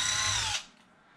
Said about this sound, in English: Because I use a drill, I tend to go pretty fast.